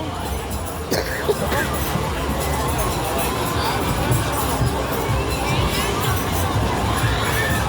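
A dense crowd shouting and cheering continuously, with children's voices rising above a steady roar of noisy babble.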